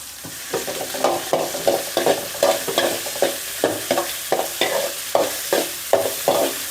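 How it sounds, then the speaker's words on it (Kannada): Onions fry in a pan for puffed rice upma while a spoon stirs them in steady, rhythmic scraping strokes about twice a second over a soft sizzle. "ಈಗ ಈರುಳ್ಳಿ ಹಾಕ್ತಾಯಿದ್ದೀನಿ."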